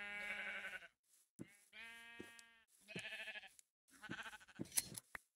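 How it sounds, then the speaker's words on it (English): Minecraft sheep give four drawn-out bleats one after another, each a wavering nasal call broken by brief pauses and faint clicks, near and distinct without any voices. "Watch your sheep here."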